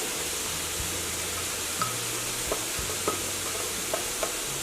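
Garlic scraped from a bowl into a pan of sizzling onions and peppers for homemade vegan marinara sauce, a steady broadband hiss with faint occasional scrapes and taps, no voices.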